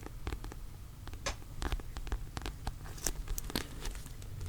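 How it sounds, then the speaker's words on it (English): Soft, close taps and papery shuffling of books, scattered clicks and rustles at an irregular pace over a faint low hum. "So we're gonna tap and shuffle our way through these books."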